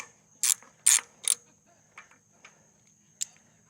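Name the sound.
wrench loosening trailer wheel lug nut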